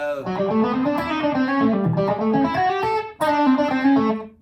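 An overdriven electric guitar plays a flowing blues lick of bending, sliding notes, pausing briefly before a final phrase.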